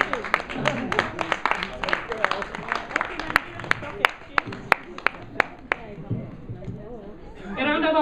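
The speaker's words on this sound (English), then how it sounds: "A round of applause for her, please." At a Nigerian Stock Exchange event, an audience claps as a woman comes on stage, with sharp individual claps standing out over a murmur of voices before the applause thins and a voice begins.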